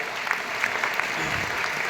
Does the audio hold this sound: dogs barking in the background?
no